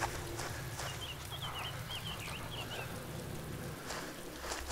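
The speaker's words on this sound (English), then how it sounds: "It's raining here." Steady rainfall in the video game DayZ, a continuous hiss of drops on surfaces near the coast, with bird-like chirps and a faint low rumble underneath.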